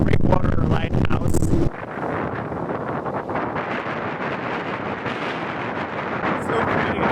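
Strong wind on the Maine coast by a rock breakwater leading to a lighthouse batters the microphone in a heavy, continuous roar, loudest at the start and then a steady rushing buffet.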